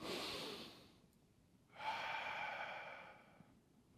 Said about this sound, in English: So everybody, let's breathe together.